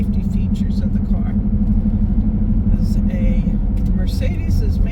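A 1988 Mercedes-Benz 560SL on the road, its engine giving a steady low hum and tyre roar from inside the cabin throughout, with a person talking over it.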